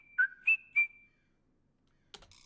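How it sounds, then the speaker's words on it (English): Recorded human whistling for Animal Crossing music tracks plays as three short, clear melodic whistle notes in quick succession, followed by silence and a brief rustle at the end. "So here are the whistles that we recorded in."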